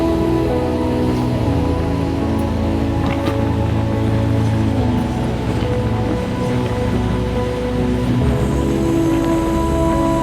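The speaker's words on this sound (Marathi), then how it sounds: "हा आहे आपला हिडन वॉटरफॉल." A hidden waterfall near Nashik in summer gives a dense, unbroken rush of falling water, loud and close, steady throughout with no voices.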